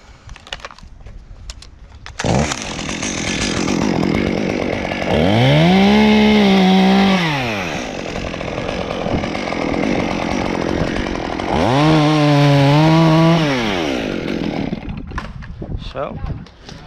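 A chainsaw cuts through a branch of a large tree being taken down by a climber beside a house in a residential area. The engine drones loudly and steadily, rising into two high-revving bursts of cutting.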